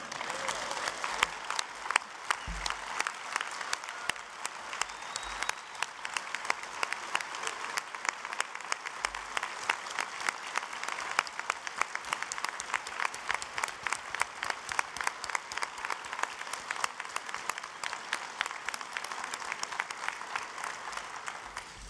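Conference keynote audience applauding a retiring CEO, a sustained round of steady clapping from a sizable crowd, even and continuous for about twenty seconds with no speech over it.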